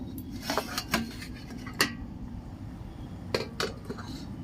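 Metal lid lifted off a steaming idli pot after fifteen minutes of cooking, with a few sharp clinks and clatters of pot and cutlery, scattered over several seconds against a quiet background.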